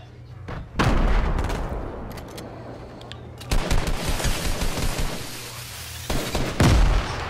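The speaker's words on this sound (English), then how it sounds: "I heard somebody's firing over there" Fortnite gunfire rattles in repeated bursts, loud and close, between quieter gaps, with the sound of rapid automatic shots carrying through most of the stretch.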